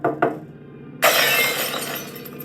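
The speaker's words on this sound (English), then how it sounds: "a window in the kitchen completely shattering" A kitchen glass window shatters all at once, loud and close, a bright burst of breaking glass that rings and rattles out for over a second after a couple of sharp knocks just before.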